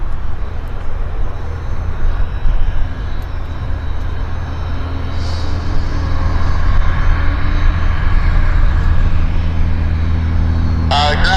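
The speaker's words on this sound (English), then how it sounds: "we're just waiting patiently for the Porter to advance the throttles" Porter airliner engines at Vancouver Airport spooling up for takeoff: a steady, loud, broad roar that builds slightly over the span, with faint chatter and a brief chirp near the end.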